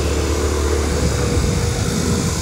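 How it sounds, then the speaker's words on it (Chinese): Small motor scooter pulling away on a road in Matsu, its engine a steady, loud drone close by with no voices over it. "我骑上现在的小摩托"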